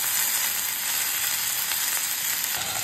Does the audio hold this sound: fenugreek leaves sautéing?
yes